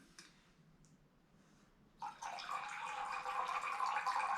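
Water poured through a handkerchief or bandana stretched over a container, a steady splashing trickle that starts abruptly after a quiet lead-in and continues close and moderately loud.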